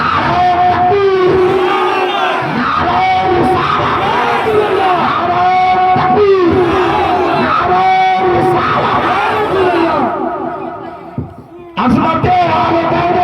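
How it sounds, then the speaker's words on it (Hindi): A large crowd chants a religious slogan, Nara-e-Takbir, in unison during an Islamic speech gathering. The loud massed voices swell in repeated rhythmic calls and fill the whole stretch, with a short dip near the end before they surge back. "आइए एक मर्तबा हम सब जिक्र के तौर पर नारा तकबीर और रिसालत की सलाए बुलंद करते हैं।"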